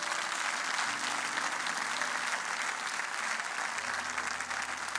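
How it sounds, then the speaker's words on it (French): A church congregation applauds the singers, a steady wash of clapping at moderate distance that continues evenly for several seconds with no one speaking. "On peut les acclamer, s'il vous plaît."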